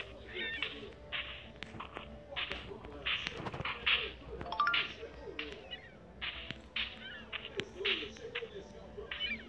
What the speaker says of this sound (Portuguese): Vamos lá caçar mais pássaros.